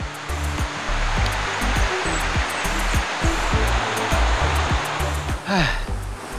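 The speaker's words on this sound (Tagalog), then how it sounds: "Dito naman sa bayan ng Tibiao, itong Tuno River ang pambato nila." Rushing water of the Tuno River in Tibiao, Antique, a loud, dense, continuous roar close by, with sharp regular ticks and a brief swell near the end.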